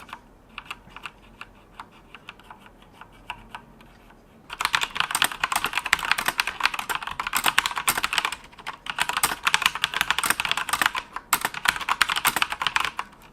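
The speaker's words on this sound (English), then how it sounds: "if you are a heavy typer, they're very easy to bottom out, which results in noise from plastic hitting plastic." Typing on an Ajazz AK48 mechanical keyboard with keys bottoming out, plastic striking plastic: light sparse taps at first, then fast, dense, loud clacking, close and alone.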